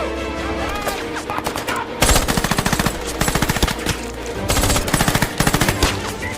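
Sustained machine gun fire from soldiers in a World War II war film, loud rapid bursts of shots rattling in quick rhythmic volleys with brief pauses between them, dense and close throughout.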